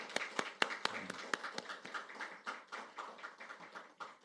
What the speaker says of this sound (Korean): 감사의 박수를.